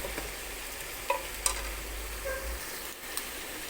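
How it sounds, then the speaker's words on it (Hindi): Chicken being added to roasted masala in a pan, stirred and frying with a soft sizzle and a few sharp scraping clicks from the spoon, fairly quiet and close. "अब मैं इसमें ऐड कर दूंगी चिकन"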